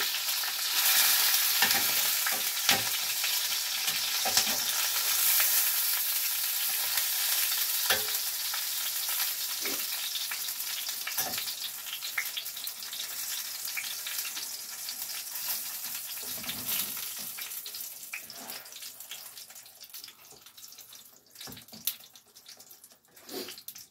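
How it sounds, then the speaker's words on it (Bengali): Small eggplants frying in a pan for a vegetarian dish, a steady close sizzle with occasional stirring clicks, continuous with no talking. "এই বেগুন, ছোট বেগুন, এগুলো একটা নিরামিষ রান্না করবো, আগে একটু ভেজে নিচ্ছি।"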